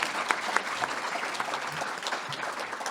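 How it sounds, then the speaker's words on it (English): Steady applause from an evening gala audience honoring award recipients at a celebration event, dense and sustained with a few sharper claps standing out, no talking over it. "let's give one more round of applause for all of our honorees this evening"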